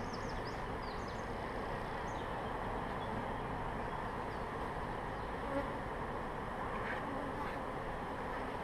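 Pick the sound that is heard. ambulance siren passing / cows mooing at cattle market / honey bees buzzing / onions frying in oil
honey bees buzzing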